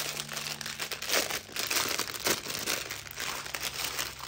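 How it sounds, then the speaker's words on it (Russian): A zip-lock plastic bag of rhinestones for diamond mosaic is opened close up, giving a steady run of crinkling and rustling plastic with a few sharper crackles. "Извиняюсь, я тут открываю пакет."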